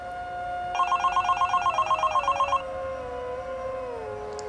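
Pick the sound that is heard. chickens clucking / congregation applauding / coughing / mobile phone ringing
mobile phone ringing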